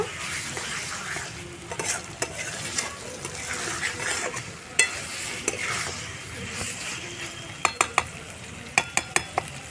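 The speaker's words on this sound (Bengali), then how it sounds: "মাংসটার মশলাটা ভালো করে কষিয়ে নেব" Chicken with spices being stir-fried in a pan for an egg chicken dinner, with a steady sizzle, scraping spatula strokes throughout and a run of sharp clicks of utensil on pan near the end.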